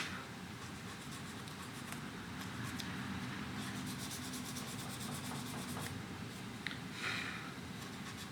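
A file smooths the nut of a Firefly Les Paul Jr guitar at an indoor workbench, giving soft, quick rasping strokes, some in rapid runs, over a steady background hiss, with no talking.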